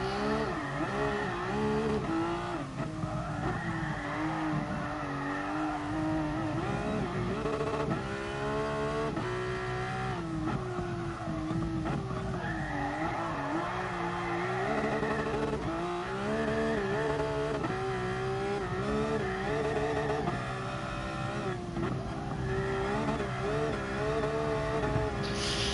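Race car drifting on the Nordschleife in GT Sport, with a loud, continuous engine note rising and falling through revs and tire squeal under steady, close game audio.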